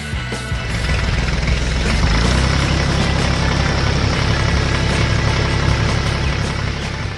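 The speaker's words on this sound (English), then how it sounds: "And here comes the yellow dump truck to finish the job." An animated yellow dump truck's engine idles with a loud, steady low rumble that holds evenly throughout, with no speech.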